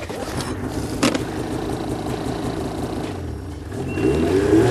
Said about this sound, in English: You simply start the machine, push the button, the engine stalls, rotates in the opposite direction,